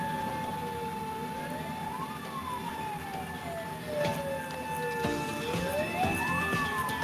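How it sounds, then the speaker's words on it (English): An ambulance siren drifts in from the street through an open window, a wailing tone sweeping slowly up and down, mid-distance and steady, with faint traffic rumble beneath. "So don't mind the ambulance right there."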